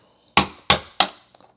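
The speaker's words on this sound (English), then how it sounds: "I have a nail set here, that's what I'm using to tap the pin out." Three sharp metallic taps of a nail set driving out a door hinge pin ring out close up in quick succession, each with a brief bright ring, followed by a faint rattle.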